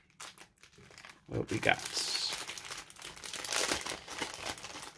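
Rummaging through a big bag of items bought in Japan, with repeated plastic crinkling and rustling close to the microphone, continuing under brief speech.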